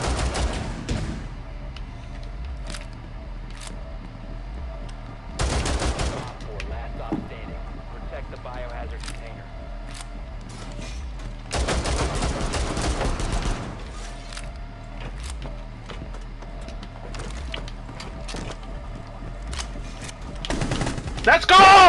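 Rainbow Six Siege gameplay with repeated bursts of gunfire, some sharp single shots and some longer rapid volleys, loud over a steady game rumble, while players talk through much of it.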